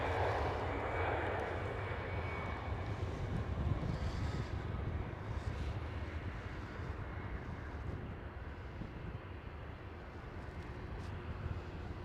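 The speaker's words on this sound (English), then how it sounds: "the Aalsmeer baan right over here, where this Air France is taking off from" An Air France airliner takes off from the Aalsmeerbaan runway at Schiphol, its engines producing a broad, sustained roar heard from a distance, steady at first and then slowly fading.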